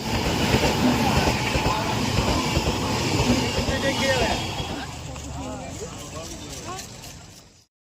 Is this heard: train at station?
yes